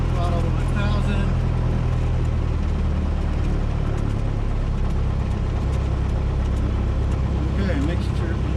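A light aircraft engine is throttled to 1000 RPM, giving a loud, steady, rumbling drone that fills the cabin while a voice talks over it.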